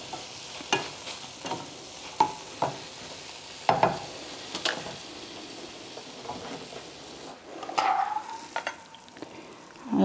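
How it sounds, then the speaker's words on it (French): Scrambled tofu cooks in a frying pan as water bubbles and sizzles underneath, with repeated scraping and clacking strokes of a utensil stirring at an irregular pace, close and clear, no voices. "quand l'eau bout au fond de la poêle, et qu'on a mélangé un petit peu"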